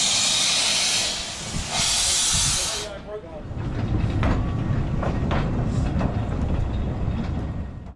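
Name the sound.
heritage steam train pulling away from station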